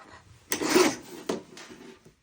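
A paper trimmer slices a sheet of paper down to size for a mini book: two quick rasping cuts, the first longer, close and fairly loud in a quiet room, with no talking.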